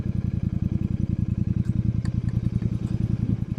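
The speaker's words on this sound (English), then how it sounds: "I have become one with this motorcycle." A Royal Enfield Super Meteor 350 on a long highway ride, its single-cylinder engine thumping in a steady, loud, even pulse with wind roar and no talk.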